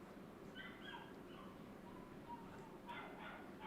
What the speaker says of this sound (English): this dog does nothing but scream all the time